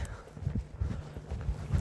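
A dressage horse walks a figure of eight, its hooves giving a steady rhythmic clip-clop on the arena footing, fairly close and continuous.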